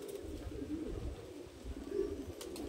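An elderly male pigeon coos in low, continuous rolling throbs, close and fairly steady throughout with no other sounds over it.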